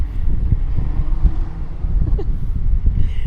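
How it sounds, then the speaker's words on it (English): Steady low rumbling wind buffets the microphone outdoors, a continuous blustery roar with no one speaking. "super windy out here"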